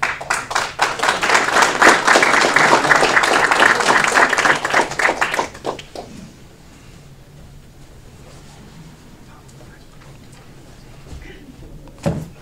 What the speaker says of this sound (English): another round of applause for the national champion, Patrick Hilby